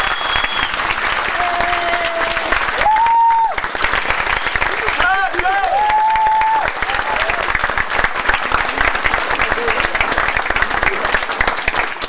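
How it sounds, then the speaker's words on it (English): A large audience at a Q&A session on a cruise applauds loudly and continuously, with cheers and whistles rising over the dense clapping throughout. "So let's give Lieutenant Joe a huge round of applause."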